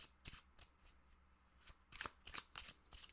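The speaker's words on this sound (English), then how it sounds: "Now, shuffle, shuffle, shuffle." A deck of cards is shuffled by hand nearby in a series of quick riffling bursts, soft and close, with short pauses between passes.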